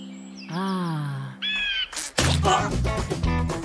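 Crows caw in a few harsh calls, fairly close and moderately loud, followed by a burst of noisy clatter.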